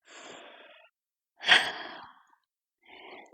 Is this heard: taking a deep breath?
yes